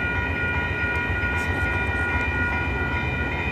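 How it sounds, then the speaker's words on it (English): Amtrak passenger train approaching on the BNSF triple-track racetrack at 18th St and Lumber in Chicago, a steady loud rumble of wheels on rail with sustained tonal hum, continuous throughout without talk. "Here comes Amtrak,"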